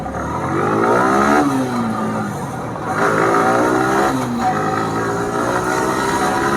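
A Yamaha R15 V3 motorcycle rides along a highway, its engine note loud and close, climbing in pitch as it accelerates through the gears with brief dips at each shift.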